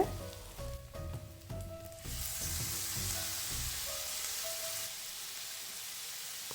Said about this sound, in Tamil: வெங்காயம் ஓரளவு வதங்கி கொண்டிருக்கும் போது வெட்டி வச்சிருக்கிற தக்காளியை சேர்த்துக்கொள்ளுங்க